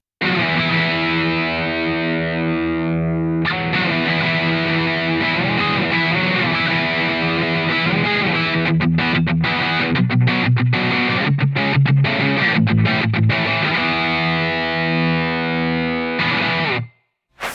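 Loud, saturated electric guitar plays sustained power chords, then shifts into choppy, staccato palm-muted bursts before ringing out again.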